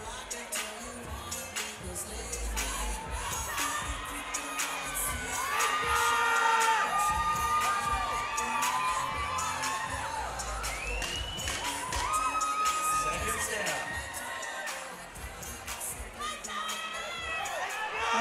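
A large crowd roars and cheers across two gyms during a women's amateur fight night bout in the MTL 3 event, loud and sustained with shouts and whoops, swelling midway and staying dense throughout.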